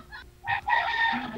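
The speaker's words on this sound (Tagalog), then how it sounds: "Maingay kasi sa'yo. Marami kasing manok sa'yo eh." Chickens cluck in short bursts, followed by a rooster's loud crow close by.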